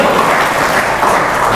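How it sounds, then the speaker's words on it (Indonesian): A church congregation claps and cheers loudly and continuously, a dense, close wash of applause filling the room. "Boleh beri sorak-sorai bagi Tuhan?"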